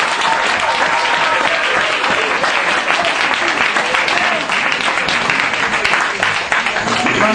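A church congregation applauding, loud dense clapping that holds steady for several seconds, close and continuous, with voices mixed faintly into it.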